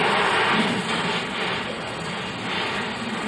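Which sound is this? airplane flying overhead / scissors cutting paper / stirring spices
airplane flying overhead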